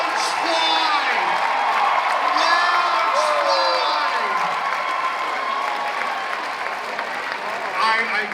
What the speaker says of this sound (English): Come give her a round of applause